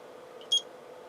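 A single short electronic beep from a timer being started on a workbench during amplifier testing, faint and crisp over a steady low hum.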